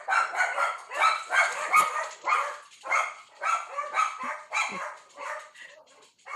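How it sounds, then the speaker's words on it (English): Several dogs bark alone in a steady run of sharp, rhythmic barks for about six seconds, loud and fairly close, with no talking over them. "The dogs all agree with you."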